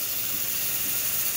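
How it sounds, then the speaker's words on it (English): Steady, even hiss of steam from a Breville BES870XL espresso machine, continuous and fairly close, with no breaks or other sounds. "Once the machine heats up enough, the steam will start coming out"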